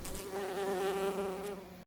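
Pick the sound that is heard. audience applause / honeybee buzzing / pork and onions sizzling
honeybee buzzing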